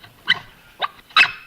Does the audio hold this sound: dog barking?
yes